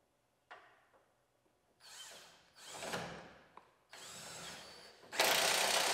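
A power tool on a long extension runs in several short bursts while tightening trailer hitch bolts through the frame of a 2019 GMC Sierra Denali truck, with a longer, louder final burst; no one speaks.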